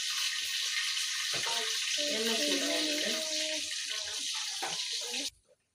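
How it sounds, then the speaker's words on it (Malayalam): Chopped garlic hits hot oil in a pan for chicken fried rice, giving a steady loud sizzle and crackle that runs on evenly before cutting off abruptly near the end. "ഗാർലിക്ക് ചെറുതായിട്ട് അരിഞ്ഞ് വെച്ചിട്ടുണ്ട് അത് നമുക്ക് ഇതിലേക്ക് ഇട്ട് കൊടുക്കാം"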